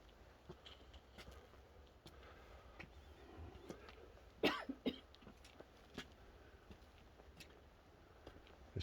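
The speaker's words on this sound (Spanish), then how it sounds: "¿Esa tos es de tabaco o de qué es?" A person coughs a few times in a cold hermitage, faint and mostly quiet, with one sharper, louder cough standing out midway.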